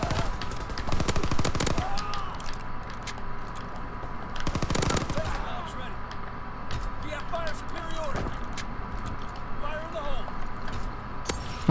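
Gunfire in a WWII shooter game, with bursts of rapid machine-gun fire at the start and middle and scattered single shots in between, all under a player's voice talking over the game.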